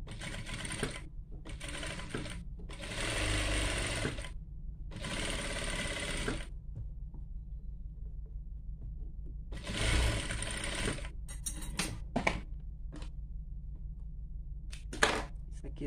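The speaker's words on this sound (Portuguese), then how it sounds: "Dá uma costurinha aqui." A sewing machine stitches a bag lining in several quick bursts of close, rattling mechanical whirring separated by pauses, with fainter handling clicks and shuffles between the runs.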